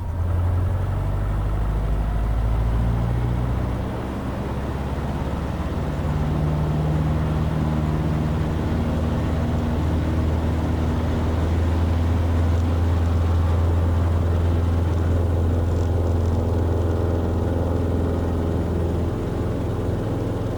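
A light aircraft's piston engine holds run-up RPM in a loud, steady drone, with a low throbbing hum that barely changes from start to finish on a hot day.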